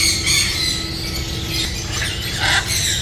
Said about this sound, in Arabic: ببغاء كاسكو افريقي ذني صغار